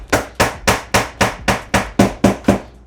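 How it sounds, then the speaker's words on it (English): Ten sharp mallet strikes in a steady, evenly spaced rhythm, close and loud, each a crisp knock as a part of a reptile habitat enclosure is tapped into place. "Tap that down until you hear that solid strike."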